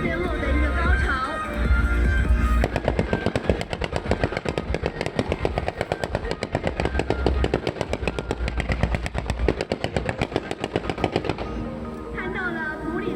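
A 3D matrix fireworks show at the Nantou lantern festival crackles in a long, rapid volley of sharp bursts, loud and continuous, after an opening of crowd noise and music.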